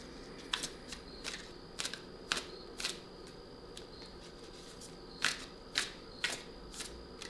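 Quiet, crisp riffling and flicking of oracle cards being shuffled in scattered bursts, close by over a faint background hiss.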